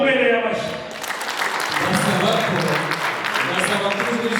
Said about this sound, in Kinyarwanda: Namubereye amashyi.